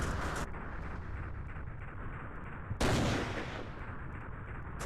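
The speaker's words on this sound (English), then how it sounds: "Mortars!" Mortar fire in the Commandos: Strike Force video game comes as dense, rumbling blasts over a constant roar of battle noise, with one heavy near impact standing out partway through and no voices.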